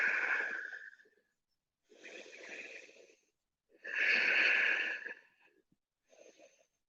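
Deep yoga breathing in a flowing practice, four slow breaths with pauses between, airy and close, each inhale or exhale lasting about a second or more, with no talk.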